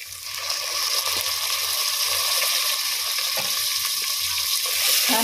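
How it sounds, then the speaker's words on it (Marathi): Pigeon peas, freshly washed and tossed with salt and red chili powder, fry in a pan with a loud, bright crackling sizzle that holds steady from start to finish, close by and with no talking. "छान आपण भाजून घेऊ।"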